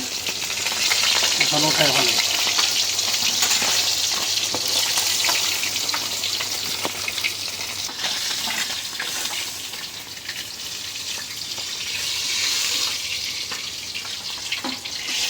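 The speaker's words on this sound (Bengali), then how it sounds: "মাছ ভাজা হয়ে গেছে," Fish coated in turmeric and chili spice paste frying in hot oil, a steady loud sizzle with occasional stirring and clatter throughout, water running briefly nearby and a short remark spoken over it.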